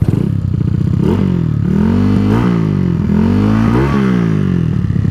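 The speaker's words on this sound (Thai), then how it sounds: "แล้วก็ การเปิดคันเร่งนะดูนะครับ" A Honda Wave 125 motorcycle fitted with a 30 mm carburetor revs hard as the throttle is opened repeatedly, its engine note climbing and falling in loud, close rising sweeps with no talk.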